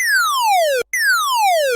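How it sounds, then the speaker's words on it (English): Synth ray gun effect from a sawtooth LFO: two identical zaps, each a bright tone sliding steadily downward in pitch then snapping back, separated by a short gap, loud and isolated. "then we'll get some great sounding ray gun effect sounds like this"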